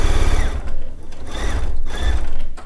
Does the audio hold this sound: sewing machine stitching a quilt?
yes